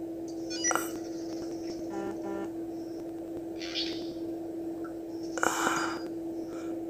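Electronic notification chimes and beeps from a phone during mobile play of an SCP containment breach game, a few short tonal bursts over a steady background hum, with no talking.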